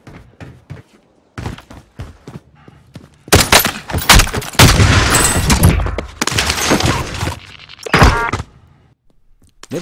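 Gunfire in the video game Warzone comes as a few sharp, heavy bursts of loud shots in the middle, with quieter thuds and footsteps around them.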